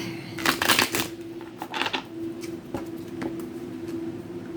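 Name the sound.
shuffling a tarot card deck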